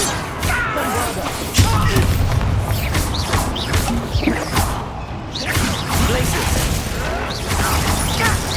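Bombarda blasting spells in the Hogwarts Legacy video game go off as repeated booms and crashes, with whooshes, thuds and mechanical clatter in a dense battle mix, while a character shouts spell names.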